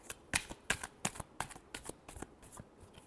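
Tarot cards being shuffled in a series of about a dozen quick, crisp riffling bursts, close and fairly quiet, with no voices.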